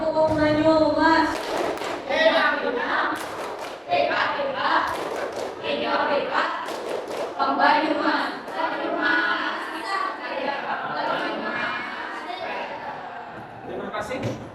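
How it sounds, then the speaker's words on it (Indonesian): A group of students in a classroom performs the Tepuk Gong Banyumas hand-clap routine, with sharp rhythmic claps mixed into loud chanting voices that carry through most of the routine. "Tepuk gong Banyumas."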